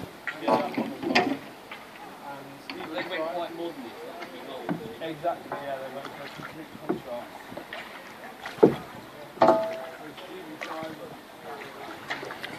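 Oars and a small rowing boat moving on water, with irregular splashes and knocks of the stroke, close by, while people talk over it.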